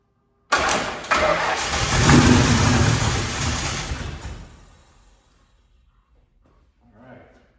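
A Ford Bronco engine, dormant for more than ten years, cranks and catches, then revs loudly for several seconds before dying away into near silence, with a faint voice near the end.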